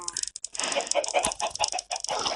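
Blocky Minecraft Pocket Edition chickens cluck in short, choppy bursts, mixed with game noise and someone talking over the top.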